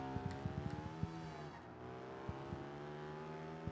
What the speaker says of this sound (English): Again, revving up really high in first gear.